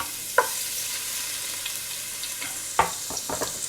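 Ginger hits hot oil in a preheated pan, producing a steady bright sizzle with a few sharp utensil clacks near the end.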